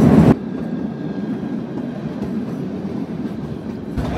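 The Kalka-Shimla toy train, Shivalik Deluxe Express, rolls along the rails with a steady low rumble inside the carriage, opening with a brief louder burst and holding a faint even hum.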